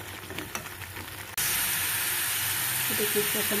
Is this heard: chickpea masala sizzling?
yes